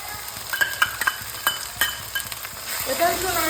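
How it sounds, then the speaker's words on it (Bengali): Fish curry with chopped green chili is stirred in a frying pan, sharp utensil scrapes and clicks in an irregular rhythm over a steady sizzle that grows fuller near the end. "নাড়াচাড়া করে নিই ভালো মতো মিশে যাচ্ছে"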